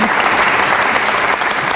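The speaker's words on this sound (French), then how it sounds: "On applaudit, s'il vous plaît." Loud, dense audience applause fills a French studio, a steady unbroken roar of many hands clapping close by, with no voices standing out.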